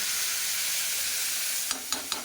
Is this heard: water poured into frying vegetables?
yes